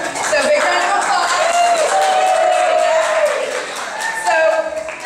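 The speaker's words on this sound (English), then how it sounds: "So big round of applause." Wedding guests at a reception toast break into applause and cheering, a crowd's claps and whoops filling the room, with voices and a tonal shout riding over the clapping throughout.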